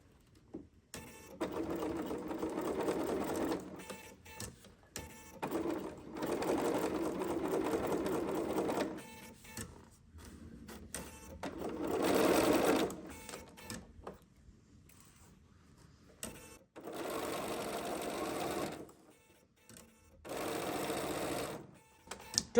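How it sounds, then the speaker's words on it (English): A home sewing machine fitted with an invisible zipper foot stitches a seam in several steady whirring runs, with short pauses between bursts, close and moderately loud. "I'm going to stitch. And then you back tack."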